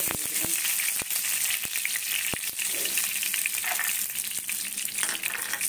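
Bay leaf and garam masala dropped into hot oil for fried rice, giving a continuous, loud close sizzle with a few faint clinks of a utensil throughout.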